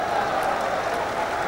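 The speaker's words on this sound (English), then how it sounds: "Clarets fans give him a round of applause" Burnley Clarets fans applauding in a sunny football stadium during a Scunthorpe United match, a brief, steady patter of distant clapping blended with low crowd murmur.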